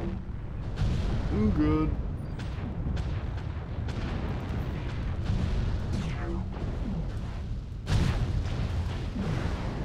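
MechWarrior Online combat: missiles launch with whooshing bursts and land in deep rumbling explosions, repeated booms spread across the stretch with a loud blast near the end, while someone briefly talks.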